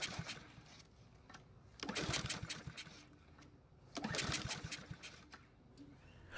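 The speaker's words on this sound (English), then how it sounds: "the engine did not start. In fact, it didn't even try to start." A small lawn mower engine is cranked twice with a pull starter, each burst a rough mechanical churn lasting about two seconds, but it never catches or runs.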